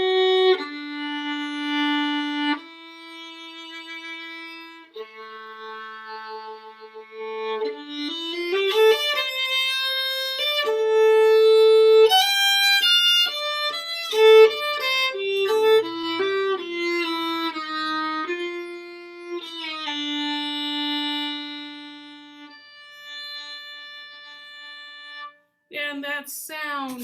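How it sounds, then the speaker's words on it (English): A bowed string instrument sounds long sustained tones, starting with an open string and moving into a wandering melodic line with clear resonant notes and short pauses, played solo and fairly close. "So we play the sound, just even an open string."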